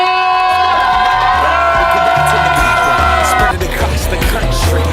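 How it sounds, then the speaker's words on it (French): A student crowd at a school association event cheers and whoops loudly over music, close and sustained throughout, with voices shouting amid the noise. "Charlotte Castin vient de gagner le voyage, on peut applaudir, bravo Charlotte!"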